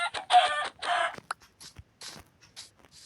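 Minecraft chicken clucks and short squawks in quick bursts, loud at first and then thinning into sparse, fainter clucks, with no talking.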